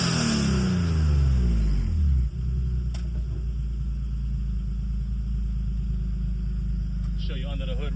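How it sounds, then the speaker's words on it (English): A 1991 BMW 325i E30 convertible with a swapped M52 engine revs up and then drops back to a steady idle rumble, loud and close, with a brief talk-like sound near the end. "And then I'll rev it for you a little bit."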